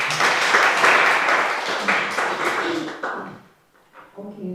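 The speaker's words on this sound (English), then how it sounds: "Let's give them another round of applause." Audience applause at an aviation careers event fills the first three seconds, loud and dense, then fades out into quieter sounds near the end.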